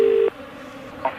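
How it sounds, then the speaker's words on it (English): A telephone being dialed in a studio: a single steady dial tone, then a short pair of key beeps near the end, fairly loud with no talking. "I'm going to phone security."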